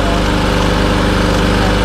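A lawn mower engine idles steadily and loud, warmed up before an oil change, its even low throb and mechanical rattle continuing without a break.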